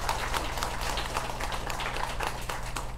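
Scattered claps from a congregation at a Sunday Buddhist dharma service in a temple hall, landing in loose, rhythmic bursts over a low, steady hum and sounding moderately distant.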